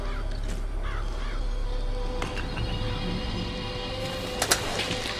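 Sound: cawing crows from Murder of Crows vigor, BioShock Infinite video game

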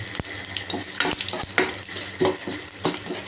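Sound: tempering seeds frying in oil

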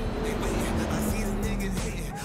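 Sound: car driving and stopping in the video game Cyberpunk 2077

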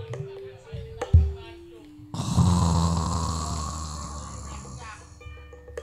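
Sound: puppeteer imitating snoring in wayang kulit show

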